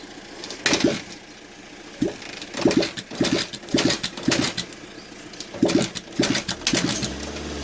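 A Honda XL 125 motorbike built from junk parts is kick-started repeatedly with the choke held, giving a series of short sputtering bursts close by that fail to catch into a steady idle.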